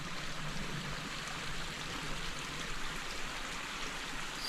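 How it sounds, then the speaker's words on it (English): Steady broadband rush of a clear creek flowing well through a forested hillside, close and continuous with no talk, a soft watery hiss holding even for the whole stretch. "So here's the creek."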